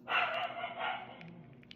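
A dog barking twice in quick succession, close and fairly loud, followed by quieter fading noises with faint background sounds.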